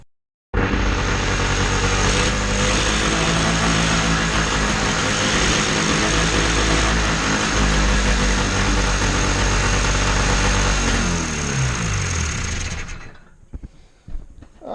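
A 1976 John Deere tractor engine runs steadily and loudly up close, with carburetors being checked, holding an even drone for about twelve seconds before cutting off abruptly near the end.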